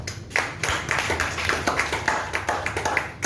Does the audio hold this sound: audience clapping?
yes